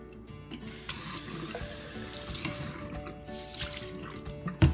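Soaked canary seed being rinsed under a running kitchen tap, a steady rush of water into a sink with splashing and shifting flow, close and alone, with a sharp knock near the end.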